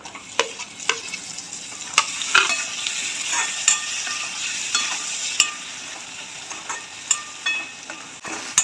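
A ladle stirs chopped tomato with chilli powder, coriander powder and garam masala in a hot pan. The mixture sizzles steadily while sharp scrapes and taps of the spoon against the metal repeat at irregular intervals, close up.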